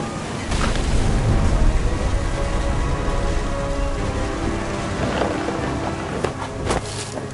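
Stormy weather in a video game, with steady rain and wind forming a dense roar and faint rumbles of thunder underneath, continuous and fairly loud with no talking.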